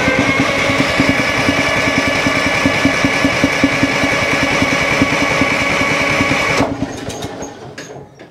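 A Caterpillar D4 bulldozer engine is cranked over by the starter, a loud, fast rhythmic chugging whirr that holds steady for several seconds and then cuts off, leaving a brief fading rattle.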